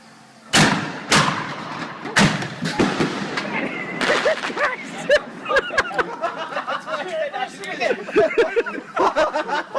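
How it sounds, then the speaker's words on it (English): Fireworks go off right above a friend passed out drunk, a series of sharp loud bangs and crackles, with laughter and chatter rising between and over the blasts. "He sets off fireworks above his passed out friends."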